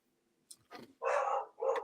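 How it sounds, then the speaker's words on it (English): A dog barks in a couple of short bursts partway through, at a moderate distance, with a few faint clicks just before and nobody speaking over it. "Is that a dog barking?"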